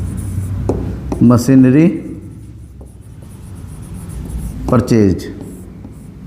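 A pen scratches on paper while someone works through a Class 12 share-issue accounting entry, with someone speaking in Hindi over the faint, steady writing.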